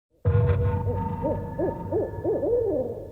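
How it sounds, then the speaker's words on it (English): A synthetic owl sound effect of several rhythmic hoots, the hoot series repeating steadily over a low rumbling ambient bed, loud and close with no talk. "let's bring out the owl"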